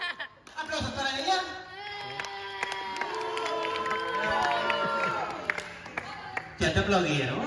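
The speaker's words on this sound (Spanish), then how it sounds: "Aplausos para ella." A circus crowd cheers and claps for a contestant, a loud sustained mix of shouts, children's voices and applause with voices ringing over it throughout.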